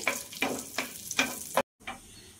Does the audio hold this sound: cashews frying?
yes